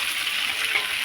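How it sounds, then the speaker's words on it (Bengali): Pointed gourd and potatoes stir-frying in a pan give a steady, close hiss of sizzling oil that holds evenly with no pauses and no voices. "চলো এবার কষাবো পটল আলু দিয়ে।"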